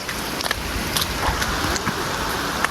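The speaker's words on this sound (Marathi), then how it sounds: "आणि प्रतापगड पाऊस मस्त की चालू आहे बघू शकता" Rain falls steadily at Pratapgad fort, a continuous wash of patter with scattered sharper drips, fairly close and with no one talking.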